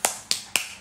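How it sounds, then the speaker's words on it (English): Four sharp, separate hand claps or snaps spaced about a quarter second apart, crisp and fairly close, with no talking over them. "I'm clapping for you too, Mom."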